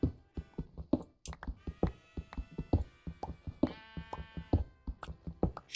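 Sheep in Minecraft bleat amid a rapid run of soft knocks and taps, with one drawn-out bleat in the middle and shorter ones scattered through, close and clear without talking.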